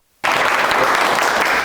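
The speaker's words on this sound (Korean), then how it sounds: "박수 한번 주세요." A room of students at a high school butchery lecture bursts into sudden applause, dense sustained clapping from many hands that starts abruptly after a moment of quiet and holds loud to the end.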